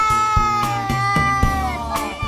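A cat meows repeatedly in a series of close, tonal cries, each drawn out with a wavering pitch, heard clearly with no talking.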